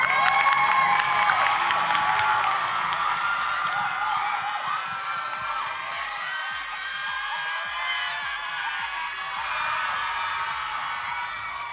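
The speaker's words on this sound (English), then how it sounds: "So please give yourselves a round of applause." A crowd at the Miss Teenager SA 2024 pageant finale applauds and cheers, with whoops and high shouts over steady clapping that stays loud and dense throughout.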